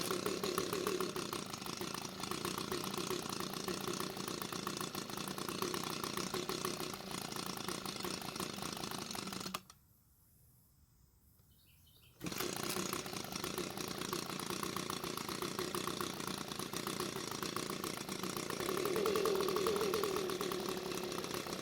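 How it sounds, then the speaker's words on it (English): An Echo leaf blower's small engine, which starts but will not stay running, drones steadily and loudly nearby, cuts out for a couple of seconds partway through, then picks back up and keeps running. "I think it's time to try out the blower"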